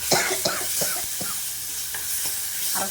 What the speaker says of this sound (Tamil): ஒரு 2 நிமிஷம் வதக்கிடலாம்